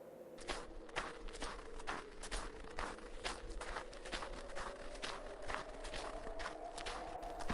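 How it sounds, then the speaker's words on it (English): Footsteps crunch through snow in a steady, fairly quick rhythm, soft and close, continuing alone without voices. "The snow crunched softly underfoot."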